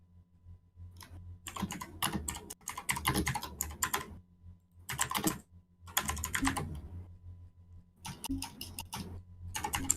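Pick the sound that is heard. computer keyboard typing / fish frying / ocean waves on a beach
computer keyboard typing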